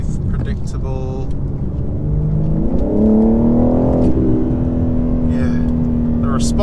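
A 2023 BMW M4 Competition xDrive engine pulls hard from inside the cabin, its pitch climbing steadily and then holding a high drone after a gear change, with a voice talking over it.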